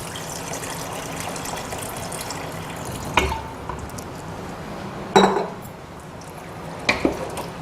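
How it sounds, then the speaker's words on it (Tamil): Milk poured into a pan of cooking pasta shells makes a soft, continuous wash of liquid, broken by a few sharp metallic clinks of a utensil against the pan. "இப்போ நமக்கு இதில் பால் இன்னும் கொஞ்சம் ஊற்றலாம். ஸோ இப்போ பால் கொஞ்சம் ஊற்றிக்கலாங்க."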